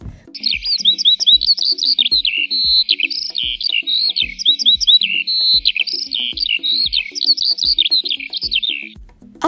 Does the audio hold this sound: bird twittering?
yes